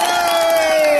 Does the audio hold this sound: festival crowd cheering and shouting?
yes